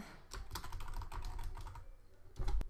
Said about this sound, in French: je tape app iPad